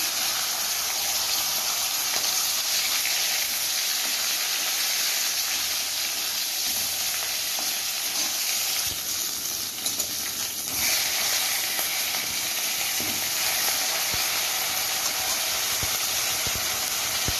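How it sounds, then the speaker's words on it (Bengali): Fish heads fry in hot oil in a pan, giving a continuous close sizzle and hiss with occasional spits and stirring noises, steady and unbroken for the whole stretch with no talking. "মাথাগুলোকে লাল লাল করে একদম ভেজে নিচ্ছি"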